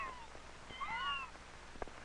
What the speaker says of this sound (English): George's cat, Gladys, has a new litter of kittens.